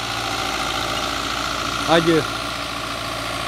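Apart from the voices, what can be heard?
Belarus 820 4x4 tractor engine idling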